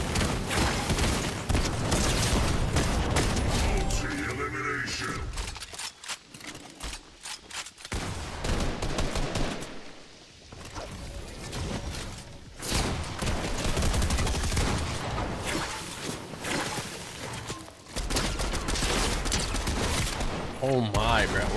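Sniper fire rings out during a live Fortnite battle royale event, with repeated sharp shots and booms cutting through a dense, busy mix of game sound that swells and dips over about twenty seconds.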